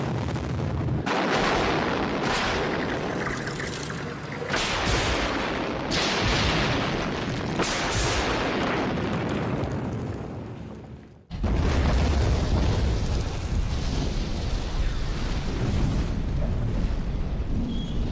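Massive demolition blast bringing down a concrete building, a sustained roaring rumble of explosions and collapsing debris, then an abrupt cut to another thunderous, continuous roar of falling concrete, loud and close.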